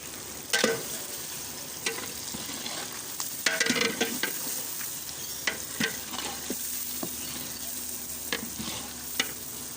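Meat stir-fried with red chili and turmeric in a pot for village-style biryani, with a steady sizzle and repeated scraping, clattering stirs of a utensil throughout, no talk.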